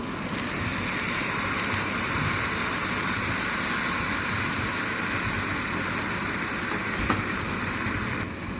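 Steady hissing sizzle of wine hitting a hot pan while making pea and mint risotto, loud and continuous with a broad airy texture throughout.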